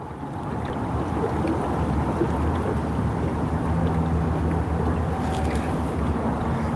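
Blustery wind sweeps across open water around a fishing boat, a constant thick roar with low buffeting rumble, steady and close for several seconds with no voices.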